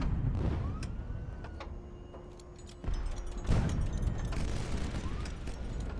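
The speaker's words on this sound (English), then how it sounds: "They dropped a bomb on me." A bomb bursts in the video game Highfleet, with booming blasts near the start and middle over a continuous low rumble and crackle; no speech.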